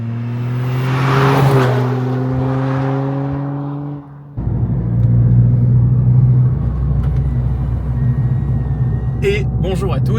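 A Toyota Yaris GR is driven on the road and heard from inside the cabin. Its engine drones loudly and its pitch shifts, then it drops to a lower rumble with road noise while someone talks over it.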